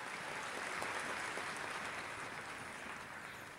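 Faint, distant applause from an audience welcoming a company president at a Japanese gathering, a steady even wash of clapping with no voices over it.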